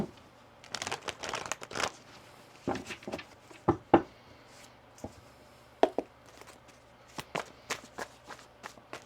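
Tarot cards shuffled and riffled close by in quick bursts of papery flicks and taps, with pauses between, no voices.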